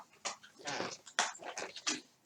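A pet dog snuffles, pants and makes soft whimpering breaths up close in a quiet room, in irregular short bursts.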